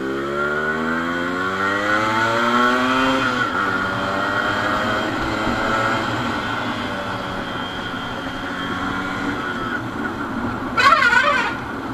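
A modified Yamaha RX100 two-stroke motorcycle engine runs loud and close, with a steady rising buzz as it climbs through the revs, then settles into a sustained drone and ends in a brief crackling burst.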